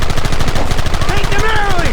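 Gunfire in Red Dead Redemption, a dense, steady crackle of rapid shots close by throughout, with a voice and other game sounds layered over it.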